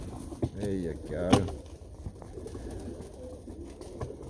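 Janssen racing pigeons, among them a checker, coo in a loft, with soft repeated calls near the start and around the one-second mark, while someone talks over them.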